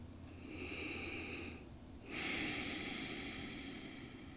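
Slow, deep breaths during a yoga session, close and soft: a long airy inhale, a brief pause, then a long exhale, with no talking.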